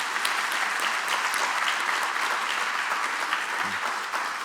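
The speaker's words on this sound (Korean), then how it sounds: "힘내시라고 격려의 박수 하겠습니다." Church congregation clapping in encouragement during a worship service, dense, even applause filling the room and holding steady before easing slightly at the end.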